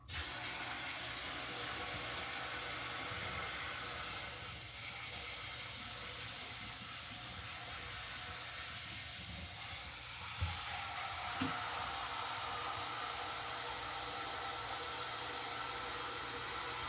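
A pot of eggs boiling dry on a stovetop gives off a steady hissing sizzle that holds for the whole stretch, with a few faint clicks and pops near the end and no talking.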